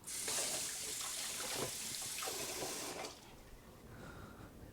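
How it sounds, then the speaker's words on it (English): Water runs steadily from a kitchen tap as hands are rinsed of sticky scone dough, a loud close hiss that cuts off and leaves quieter dripping and splashing in the sink. "so go wash your hands."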